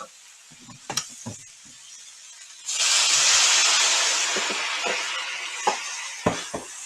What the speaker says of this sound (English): Okay, water's going in now.